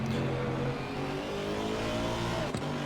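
Race cars lap Kyalami in a racing video game, a loud, steady engine drone with layered revving tones from more than one car, close and continuous.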